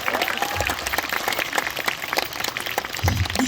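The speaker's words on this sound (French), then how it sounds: "je crois qu'on peut l'applaudir à nouveau" An audience claps steadily for a few seconds, a dense even patter of applause with no pauses.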